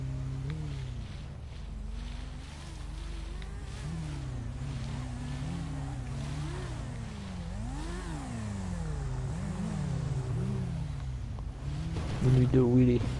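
Motorbike engine in a video game, revving with rising and falling pitch sweeps over a steady drone, fairly close and continuous, with people talking over it and a brief rougher burst near the end.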